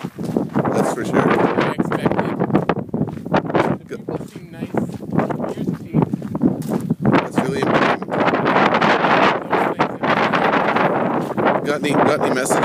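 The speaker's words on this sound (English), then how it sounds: "Well, it's cold and windy." Cold wind gusts outdoors in Churchill and buffets the microphone with loud, steady rumbling bursts throughout, while people talk over it.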